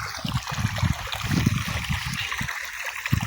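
Irrigation water running steadily, a continuous hissing, gurgling flow heard close with no talking.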